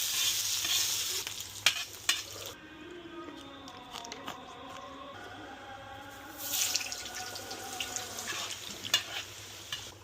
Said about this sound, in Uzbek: Kartoshkalarimizni tillarang qilib qizartirib olamiz.